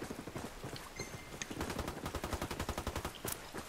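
Automatic gunfire crackles in a military shooter game. Loud, rapid bursts of shots form a steady, nearly continuous rattle for several seconds, with a brief pause and a sharper crack near the end.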